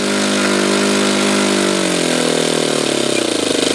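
A Saito twin model engine screams at full throttle, a loud, buzzing high-pitched drone nearby that holds steady, then sags lower toward the end.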